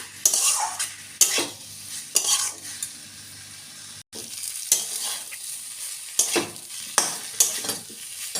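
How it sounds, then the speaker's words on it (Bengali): Cauliflower and potato pieces fried with spices for a rohu fish curry: a continuous oily sizzle broken by regular, close scraping strokes of a spatula against the pan, without speech. "এবার দেব ফুলকপি আলু ফুলকপি আলু দিয়ে দু মিনিট নেড়ে নেবো"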